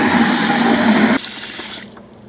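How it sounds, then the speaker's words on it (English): Water gushes loudly into a bucket for washing a car, a dense splashing rush that cuts off abruptly about halfway and fades to a quiet trickle and drip. "it's time to fill our bucket up with some water."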